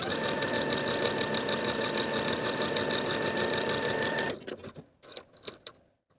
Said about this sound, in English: we're going to gather the upper curved edge from one notch to the other, sewing basting stitches and leaving long threads at each end